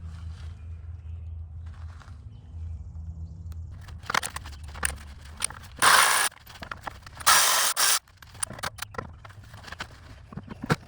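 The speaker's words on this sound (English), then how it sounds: "And then we're gonna get that EGR bolt also taken out. So these should be 13s." A ratchet works on EGR bolts on a 2013 Jetta 2.0 TDI, giving bursts of quick clicking with a few loud rasping runs and metallic knocks up close, and no talking.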